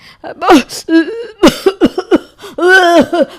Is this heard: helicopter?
no